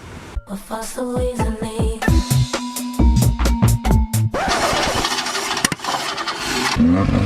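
A Chevrolet Nova engine cranks in sputtering bursts, catches, and revs up to a loud, rough roar that holds and rises near the end.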